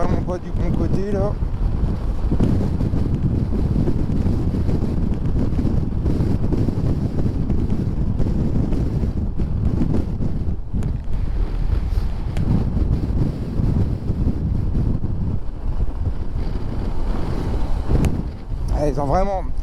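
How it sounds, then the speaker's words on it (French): Strong, roaring wind buffets the microphone continuously during a ride on a Yamaha Tracer 7 motorcycle, a loud broadband rush that dominates throughout with brief voice fragments near the start and end. "Ce vent c'est infernal."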